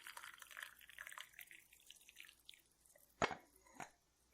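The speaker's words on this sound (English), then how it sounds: "pouring myself a big mug of green tea" Green tea is poured into a big mug, a soft steady liquid stream that trails off into a few close, distinct drips and splashes, quiet and intimate with no speech.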